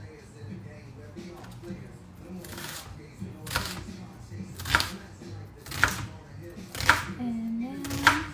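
A knife cuts through an onion on a board in a series of evenly spaced, crisp chops, about one per second, close and fairly quiet, with a brief voice near the end.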